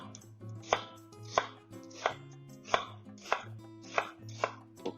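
An onion is chopped with a knife on a board in a home kitchen. About eight evenly spaced, close, crisp chops come in a steady rhythm, with no talking.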